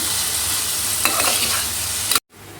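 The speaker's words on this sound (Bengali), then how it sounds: "এটা তো ভাজা ভাজা হচ্ছে" Boiled potatoes and soya chunks frying in a pan, a steady sizzle with a few scraping stirs near the middle, loud and close before cutting off abruptly.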